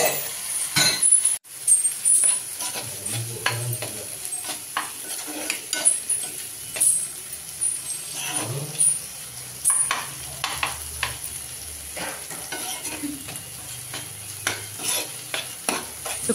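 Potato and spinach (aloo palak) cooking in oil in a pan, with a steady soft sizzle and repeated scraping stirs of a spoon through the mixture, close and moderately loud, no talking.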